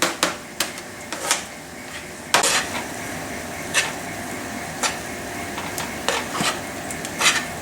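Sweet corn kernels tossed through cooking sweet potato leaves and rainbow Swiss chard in a pan, with irregular scraping and clattering of a utensil against cookware over a steady sizzle.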